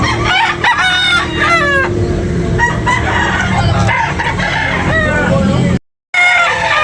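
A rooster crows loudly up close, with hens clucking and other crowing around it, amid farmyard bustle and a brief dropout near the end.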